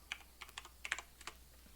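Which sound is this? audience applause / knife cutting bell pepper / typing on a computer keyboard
typing on a computer keyboard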